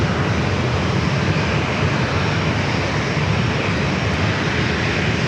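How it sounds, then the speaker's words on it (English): A Southwest Airlines Boeing 737-700 arriving at San Diego airport fills the air with a loud, continuous broadband jet roar that holds steady throughout, with no voices over it. "Also a flight coming up from Las Vegas, Southwest Airlines Flight 2786"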